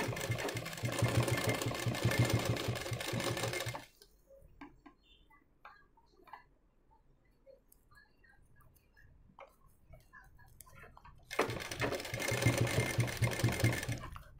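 Sewing machine running steadily while stitching piping onto a blouse back, a loud rapid mechanical whir for several seconds, then quiet handling and faint ticks, then the machine starting up again at the same pace.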